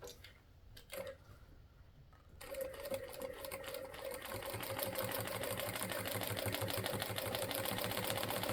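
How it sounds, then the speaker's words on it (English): Sewing machine stitching through painted quilt fabric, a soft clicking start that builds into a steady rapid mechanical chatter, close and moderately quiet, with no talking. "It could be this machine doesn't like sewing on paint or this thread."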